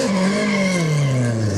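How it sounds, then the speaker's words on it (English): A race car at Silverstone heads out on track, its engine note swelling loud and close then falling in pitch as it pulls away, a continuous roaring tone with no talk. "Car about to head out track. Listen to this."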